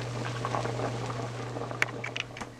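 Tap water runs over freshly cooked pasta shells in a steady, close splashing patter, with a few sharper drips and clicks toward the end and no talking.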